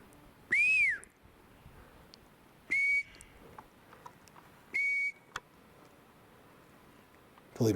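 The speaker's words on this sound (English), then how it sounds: "Believe me, I know how annoying the whistle sounds." A person whistles three separate short notes, the first rising and falling, the next two steady and high, spaced a couple of seconds apart against a quiet room with faint ticks and clicks.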